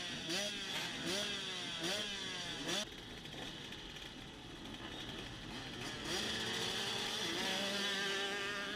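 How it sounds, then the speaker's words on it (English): Several dirt bike engines start and rev together at a District 17 GP Series motocross race at Fox Valley Off Road. Loud overlapping two-stroke-style revs and rising blips form a dense, continuous engine roar throughout. "Live engine start here for Moto 2, and we cannot see anything"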